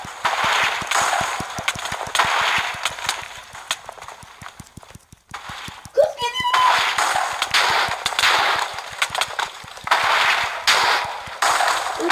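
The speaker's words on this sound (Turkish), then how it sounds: "Tüfek tüfek tüfek tüfek." Rapid rifle gunfire rattles steadily throughout a Minecraft PE Star Wars game, a dense run of sharp repeated cracks with a brief pause and a rising chime midway, loud and close.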